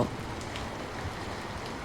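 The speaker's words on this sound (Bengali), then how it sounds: "চারিদিকে ঝড়ের আওয়াজ, গাছে ডালে ঝড়ে নড়ার শব্দ" Steady storm rain pours down in a ghost story scene, a dense, even hiss of falling water with a faint wind-like wash beneath, continuous and moderately loud with no voices.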